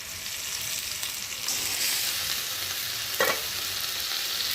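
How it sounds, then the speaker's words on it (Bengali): Spice paste of ginger, cumin, onion, tomato, turmeric and chili powder sizzles steadily in a pan for fish curry while a spoon stirs it, with one brief scrape near the end. "মশলাটাকে বেশ ভালো করে কষিয়ে নেব"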